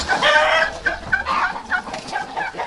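Guinea fowl call out in loud, harsh, repeated squawks, one bird after another in quick bursts, close by with no talking.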